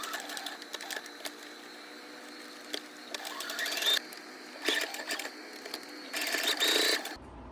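A sewing machine stitches around stencils placed on the back of fabric for a shirt patch. It gives soft, uneven mechanical whirring in several short runs, with louder bursts near the middle and end, and no voices.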